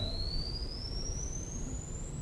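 A faint pure sine tone sweeps slowly and smoothly upward into a very high pitch, played as a hearing-range test during a lecture on sound, alone over quiet background hiss.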